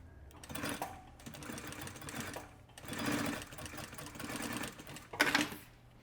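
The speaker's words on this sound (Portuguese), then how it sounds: "Vou costurar tanto de um lado quanto do outro." A sewing machine stitches a leather wallet in several rapid, buzzing bursts of several seconds each, close and steady, separated by short pauses.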